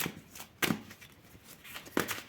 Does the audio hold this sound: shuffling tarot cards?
yes